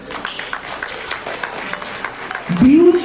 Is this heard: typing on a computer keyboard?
no